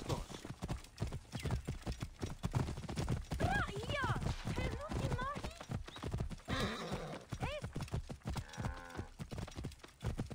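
Horse hooves clip-clop in the Assassin's Creed Origins video game, a steady rhythmic trot with horses whinnying, heard under spoken dialogue in Russian.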